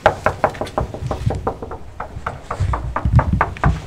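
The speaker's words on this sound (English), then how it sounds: "So should we knock?" Repeated knocking on a church door, a rapid series of firm raps in uneven bursts, loud and close with no voices over it.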